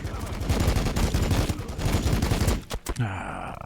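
Rapid bursts of gunfire from a Warhammer 40000 Battlesector multiplayer match, Adepta Sororitas against Tau, loud and dense for over two seconds before a short gap and a lingering tonal rumble.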